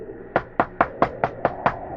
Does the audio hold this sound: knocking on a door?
yes